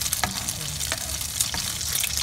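A tuna omelette frying in a pan makes a steady sizzle and crackle, fairly close, with a few scraping stirs and taps over roughly two seconds.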